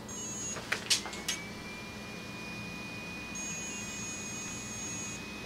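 A Castle ESC gives a steady, thin calibration tone with the throttle held at full, the tone sustained for several seconds after a few short clicks, over a quiet background hum.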